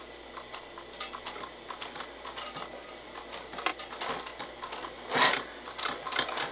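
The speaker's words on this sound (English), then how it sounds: "And now I sew across the bottom." A sewing machine stitches across the bottom of a fabric pouch, giving a faint, quick rattling patter in short runs that speeds up near the end, with no voices.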